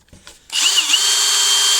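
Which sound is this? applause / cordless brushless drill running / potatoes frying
cordless brushless drill running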